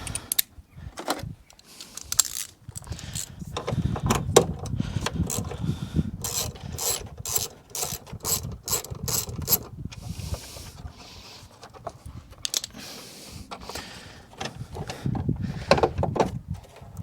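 A ratchet clicks in short repeated bursts while undoing the 10mm bolts on the lower airbox of a Mazda MX5 NC, mixed with rubbing and clunking of the parts, close and fairly loud, no speech.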